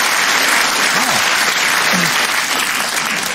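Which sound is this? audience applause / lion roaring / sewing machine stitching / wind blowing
audience applause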